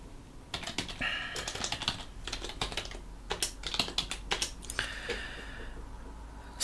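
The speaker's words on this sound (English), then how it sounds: "Oh, so used to typing that sentence." Rapid typing on a computer keyboard during Linux coding work, clusters of crisp close keystrokes in uneven bursts with short pauses, alone and fairly quiet.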